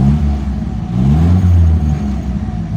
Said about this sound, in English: then you pull this one that says S for starter